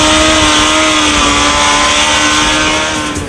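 A Suzuki Hayabusa sport motorcycle ridden hard at Willow Springs racetrack in Southern California, its engine roaring loud and close in a sustained high-revving blare that eases slightly at the end.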